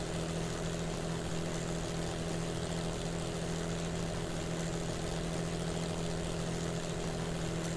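The Hornet piston aero engine in Kerbal Space Program drones steadily with a constant propeller hum and buzzing tone, loud and unbroken throughout with no talking.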